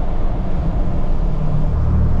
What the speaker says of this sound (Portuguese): Olha o freio motor.